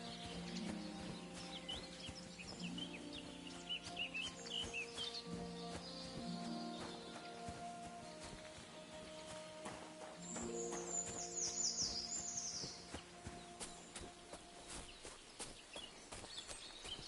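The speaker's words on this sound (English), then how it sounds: "The sounds are so good in this game too. Like, I love just the birds." Birds chirp and sing in a medieval outdoor scene in the video game Kingdom Come Deliverance 2, scattered high tweets over steady ambience with horse hooves clip-clopping and footsteps, moderately faint.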